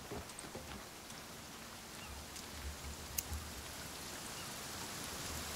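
Heavy rain in the video game The Forest, a steady, hissing downpour with scattered drop impacts and a few low thumps, fairly quiet and continuous with no one talking.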